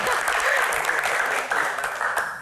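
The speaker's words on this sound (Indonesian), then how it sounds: "Tepuk tangan." Sustained applause from a live audience at a football-themed Q&A event, dense and steady throughout with faint voices mixed underneath.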